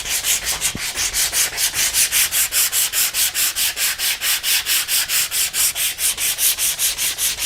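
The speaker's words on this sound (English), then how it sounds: "I'm gonna spend some time with my files and my sandpaper working this until it looks nice and uniform" Sandpaper and files work an acoustic guitar neck in a garage workshop, a steady rhythmic back-and-forth rasp of roughly four strokes per second, close and even, with no voices.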